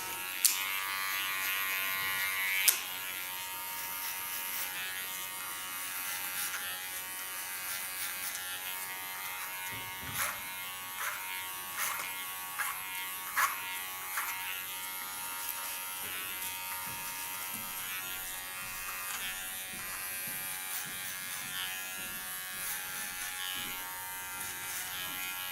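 Electric hair clippers buzz steadily close up while cutting a man's hair, the drone broken by a series of short clicks and tapping bursts as the blades work through the hair.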